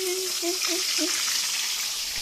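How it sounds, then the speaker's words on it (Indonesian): Salted fish sizzles steadily in hot oil, a constant crackling hiss close by, with a few faint tonal chirps near the start. "Gerih digoreng dulu."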